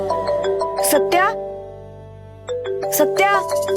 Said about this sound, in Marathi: हा, पप्पांचा फोन येते.